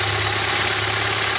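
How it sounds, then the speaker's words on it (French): A car's V16 engine idles with the hood open, a loud, steady mechanical hum with a faint knocking rhythm, running alone without any talk. "c'est un moteur V16."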